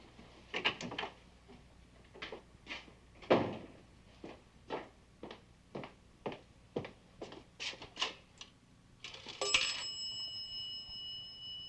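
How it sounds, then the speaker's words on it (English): A call is placed from a pay phone at the end of a hallway. About a dozen evenly spaced dial clicks and clacks are followed by a ringing tone near the end, all fairly quiet. "You better give Vic a call"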